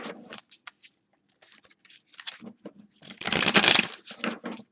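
A deck of tarot cards being shuffled in short riffling and rustling bursts separated by brief pauses, growing louder and denser near the end.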